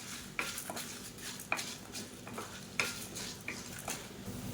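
Chana dal roasting in a pan with tamarind and garlic, a soft dry sizzle under repeated scraping stirs of a spatula, clinks landing about once a second, quiet and close.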